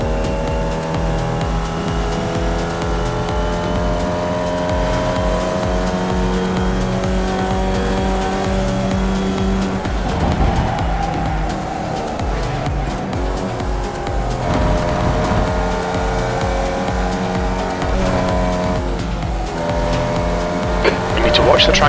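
A Formula Vee race car laps the Rudskogen Motorsenter circuit, its engine droning loud and close with rising and falling revs through gear changes and corners, brief tire squeal near the end, and a voice talking over it.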